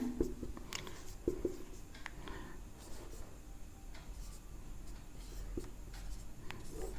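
Pen writing on paper while a maths problem is worked out, producing soft, close scratching strokes that continue steadily with small taps and pauses in a quiet room.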